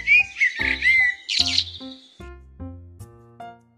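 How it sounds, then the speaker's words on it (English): Blackbird song in bursts of bright, fluty chirps and trills, with a steady musical backing beneath the calls throughout. "Blackbird."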